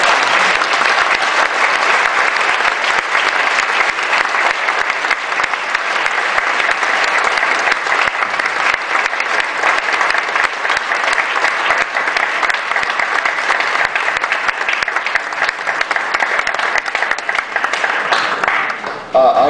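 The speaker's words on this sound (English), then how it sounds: "And now you may applaud them all." An audience at a ward aldermanic candidates forum applauds the candidates, dense sustained clapping filling the room at an even level for about twenty seconds before tapering slightly at the end.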